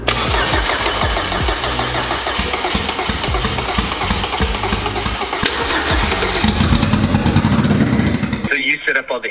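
A K-swapped Honda Civic with a turbocharged K20 engine is cranked and fires up, the starter churning rhythmically before the motor catches and runs loud and close, then cuts off abruptly, with people talking over it.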